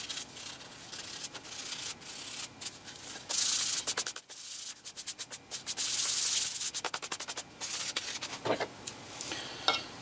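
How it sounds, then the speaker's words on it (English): Sandpaper rubs over the wooden stock of a Remington 31 12-gauge shotgun in light surface strokes, making a close, rhythmic scratchy hiss with short rapid passes and brief pauses, no talk. "I'm not really hitting this hard. This is just a real surface sand."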